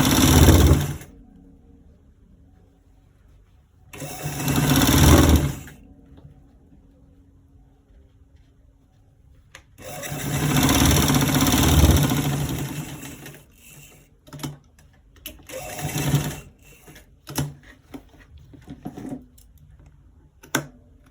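Sewing machine stitching a stripe down the side of a pair of trousers, running in several loud buzzing bursts of about one to two seconds each, separated by quiet pauses, with a flurry of short stitches toward the end.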